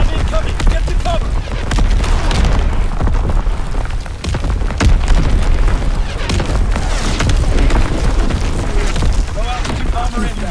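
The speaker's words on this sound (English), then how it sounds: "Incoming enemy artillery. Get to cover. Enemy mortar fire incoming." Enemy artillery and mortar shells burst continuously in a World War II shooter match in Aachen, a dense, loud barrage of booms and rumbling impacts with scattered gunfire, and voices call out over the battle.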